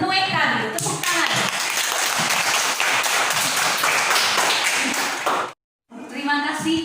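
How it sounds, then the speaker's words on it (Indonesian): A classroom of students claps for a classmate who has just read a text aloud, a dense burst of many hands that stops abruptly, with a teacher's voice speaking over it. "Ya, tepuk tangan untuk Enu Eka dulu, tepuk tangan."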